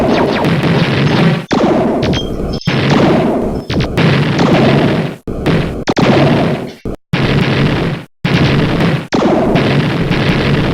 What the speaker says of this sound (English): So now that I've damaged the base, each explosion that happens in the base actually damages it further.